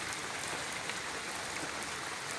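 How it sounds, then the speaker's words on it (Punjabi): Rain falling around a village at midday, a steady, dense, moderately loud patter with no voices. "ਸਾਡੇ ਫੇਰ ਮੀਂਹ ਆ ਗਿਆ"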